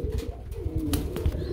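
A male pigeon coos in low, rolling, repeated notes close by, with a pulsing rhythm over a steady background hum and no talk.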